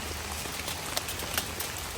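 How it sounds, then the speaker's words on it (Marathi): Heavy rain pours down on a campsite in the United States, a dense, even patter of drops striking surfaces nearby, steady and loud throughout with no talk. "तर खूप पाऊस पडायला लागला आहे आणि सगळीकडे तुम्ही फॉग बघू शकता"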